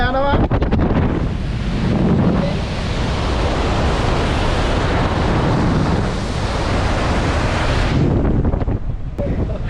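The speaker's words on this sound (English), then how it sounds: "So you can see ship is sailing right now." A ship underway on the open sea, sailing toward Mozambique, with steady loud wind buffeting the microphone and the broad wash of waves continuing unbroken, close and dense.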